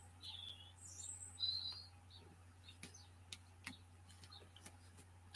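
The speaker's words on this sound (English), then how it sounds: "You can probably hear the birds." Small birds chirp outdoors in sunny weather, several short high tweets and trills scattered across a quiet background, with light ticking clicks in between.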